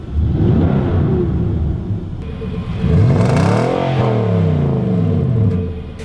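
A 2017 Nissan Titan half-ton pickup's engine, 390 horsepower and paired with a 7-speed automatic, revs loudly and up close, rising and falling in a few sweeping pulls over a steady idle rumble, with no talk.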